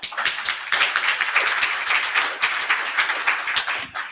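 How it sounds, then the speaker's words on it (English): A conference audience at a site remediation professionals training session breaks into a steady round of applause, dense overlapping claps filling the whole stretch at a constant, moderately loud level with no talking. "Let's give Mike a round of applause."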